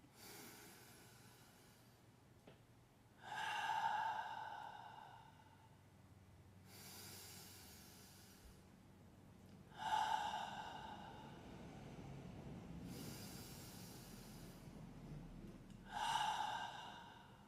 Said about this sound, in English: Let's just take 3 breaths as a single organism on this planet